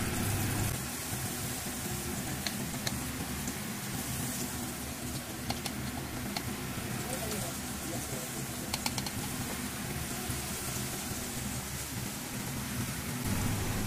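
Beef and potato chops coated in besan batter fry in hot oil with a soft, continuous crackling sizzle, steady and rain-like, low in level throughout.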